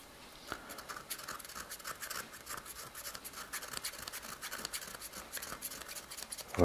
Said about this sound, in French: Mon rasoir, il accroche un peu.